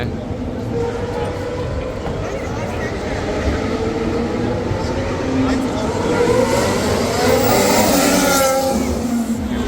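Formula 1 race cars roar past at the circuit trackside fence, a loud, continuous engine whine that rises and sweeps as a car passes, with voices mixed in.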